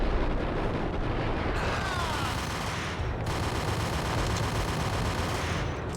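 Continuous loud gunfire from the video game Max Payne, a dense rapid volley of shots blending into a sustained roar for several seconds with no talk.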